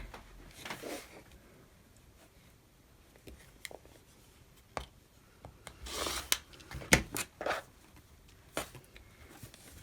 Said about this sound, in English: now I'm going to cut off the selvage.